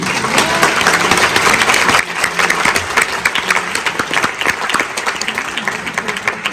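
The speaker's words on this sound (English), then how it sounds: "please give them your biggest round of applause" Dense applause from a concert audience after a school winds performance on Christmas Eve, loud and sustained, dipping slightly at two seconds then continuing steadily to the end.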